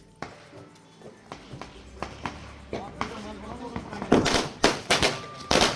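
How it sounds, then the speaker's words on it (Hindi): Local firecrackers go off on Diwali night in a village, a string of sharp pops and cracks that grow louder and closer together, with people talking throughout. "लोकल पटाखे रखे हैं दीवान भाई ने।"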